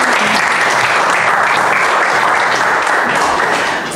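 Dense, steady audience applause at a Spanish-language show presenting young female models, loud and sustained with many hands clapping at once, easing slightly at the very end.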